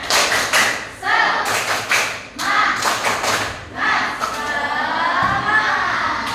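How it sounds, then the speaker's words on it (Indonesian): A classroom of students performing a rhythmic chanted spirit clap, bursts of group clapping and thumping in short patterned groups alternating with children's voices calling out together, loud and close. "biar kelasnya bergemuruh, kita tepuk semangat"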